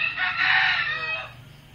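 A rooster crows once, a loud drawn-out call close by, fading at the end over faint background noise.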